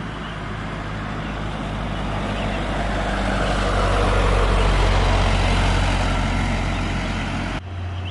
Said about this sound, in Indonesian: Ini ada bis masuk,